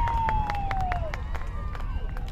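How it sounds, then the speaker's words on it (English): Crowd cheering and roaring at a rugby league grand final between the Trundle Boomers and Manildra Rhinos, a steady dense wash of voices and whistles under commentary late in the second half. "Crowd is going absolutely wild here for the Trundle Boomers."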